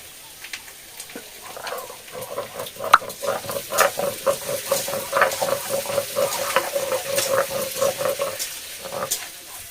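Brinjal and ginger paste frying in a pan, a crackling sizzle broken up by rhythmic scraping and stirring strokes at close range, steady and moderately quiet.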